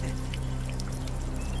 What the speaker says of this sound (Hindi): ए, देख क्या रहा है, पानी डाल।